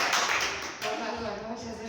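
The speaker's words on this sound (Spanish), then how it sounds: "Pido un aplauso para" Brief applause in a municipal council session, a short burst of clapping that fades quickly while voices talk over it.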